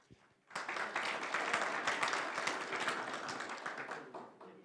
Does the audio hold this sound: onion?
no